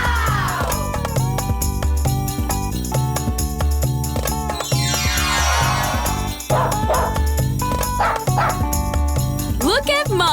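Cartoonish puppy barks and yips from a children's farm animal toy segment ring out loudly over busy, bright background music and sound effects, with repeated short bursts.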